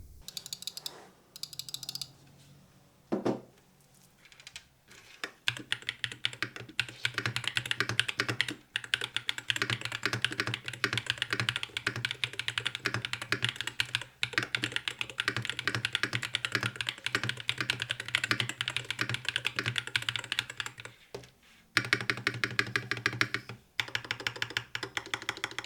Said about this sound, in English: let's check what the keyboard sounds like